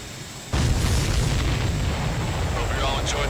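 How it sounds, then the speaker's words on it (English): Explosions in Ace Combat 7 during a combat mission flown in an F-15E Strike Eagle: a sudden loud blast hits after a short quiet moment, then rolls into a deep, sustained rumbling roar that stays heavy to the end. "Did you see that explosion?"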